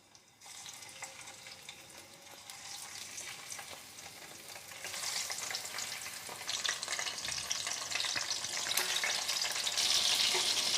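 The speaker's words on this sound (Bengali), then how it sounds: "তেল গরম হয়ে গেছে, এবার একে একে মাছের মাথা দিয়ে ভেজে নেব।" Fish heads frying in hot mustard oil sizzle and crackle steadily. The sound grows louder and denser over about eleven seconds and stays close, with no talk.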